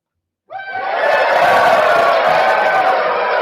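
A lone voice imitates a crowd's applause and cheering at a church gathering, a sustained breathy roaring hiss that starts abruptly and holds steady and loud throughout.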